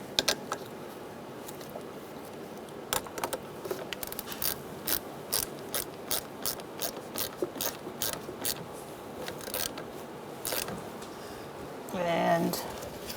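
A 10mm socket ratchet tightens the negative battery terminal on a 2010-2013 Kia Soul 2.0L, giving steady runs of sharp ratcheting clicks at close range. A short whooshing burst comes near the end.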